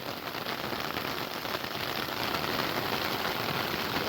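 Steady heavy rain falls in a forest at night, a dense, even hiss of drops on leaves and ground that continues without pause and grows slightly louder toward the end.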